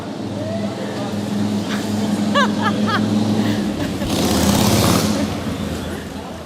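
A car passing on a city street, a rising and fading engine and tire rush that peaks near the end, heard under a person talking amid background street noise.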